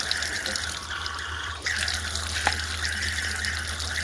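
Tap water runs steadily with a splashing, hissing quality, and a couple of brief knocks as hands move through the stream while washing a face, outdoors in a village.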